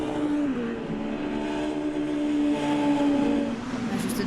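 Mitjet race cars running at Nogaro circuit on the airfield straight, a sustained engine drone with a rising pitch, loud and steady, with engine noise filling the whole stretch.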